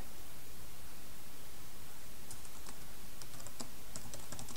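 Keystrokes on a computer keyboard come in a quick irregular patter during the second half, faint under a steady loud hiss of background noise, with no voices.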